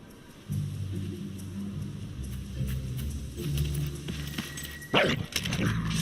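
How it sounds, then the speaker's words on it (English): A dog barks and whimpers in the video game Fable III, a series of close yips and barks over a low droning game soundscape, ending in a louder burst. "Somebody get that dog!"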